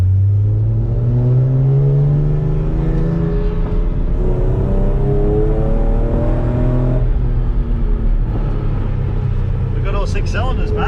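A six-cylinder drift car revs hard at Queensland Raceway on slippery tyres, its engine note climbing and falling in repeated loud sweeps, with a voice talking over it.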